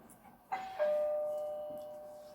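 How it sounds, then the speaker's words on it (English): A doorbell rings indoors, giving two chime tones in quick succession, a higher note followed by a lower one that rings on and slowly decays, moderately loud in an otherwise quiet room. "sorry, that's my doorbell."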